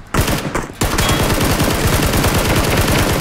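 Sustained rapid automatic gunfire in the battle royale game PUBG, loud and close, a dense stream of evenly spaced shots that starts after a brief short burst and continues without a break.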